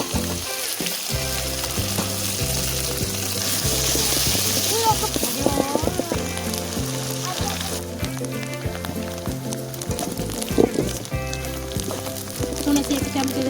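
Green chillies sizzle in hot oil in a pan, a continuous crackling fry with stirring scrapes, heard beneath a background of rhythmic music and occasional voices.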